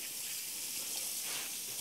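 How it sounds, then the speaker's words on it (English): Tap water runs steadily into a sink as hands are washed beneath it, a close, continuous hissing gush with no voices over it. "can I wash my hands?"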